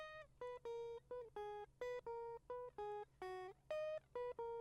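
A soft, clean guitar-like synth melody with no effects plays alone, a quiet run of short plucked notes in a bouncy, uneven rhythm for a melodic electronic remix.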